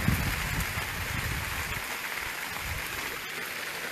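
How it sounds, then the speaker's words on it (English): Heavy rain blows sideways onto a small shelter hut in Surigao City, Philippines, a steady, dense hiss of drops pattering close by on the surface with no pauses throughout. "So it started raining here, and we're sitting in one of these little huts to stay dry. It's not working because the rain is going sideways."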